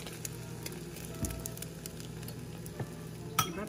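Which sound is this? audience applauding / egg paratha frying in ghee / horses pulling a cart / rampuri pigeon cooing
egg paratha frying in ghee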